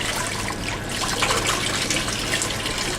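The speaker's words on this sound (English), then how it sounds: "So I'm just giving a little bit of space to get the water out without letting the caps fly everywhere." Running water rinses soap out of 28 mL polycarbonate tubes during trace metal cleaning, a steady close splashing and trickling flow that continues without pause and with no talk over it.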